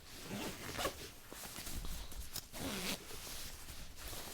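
Zipper pulled shut around a Peak Design medium packing cube, a continuous close zipping run with two brief louder surges, fairly near with no talk.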